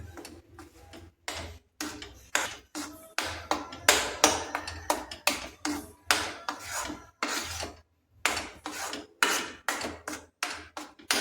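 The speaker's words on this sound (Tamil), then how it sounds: "நல்லா கலக்கி விடணும் அதில் நல்லா சுண்டி வரணும்" A spoon stirs a thick gooseberry mixture in a cooking pan, making repeated close scraping and tapping strokes against the pan in a steady rhythm with short pauses and no talking.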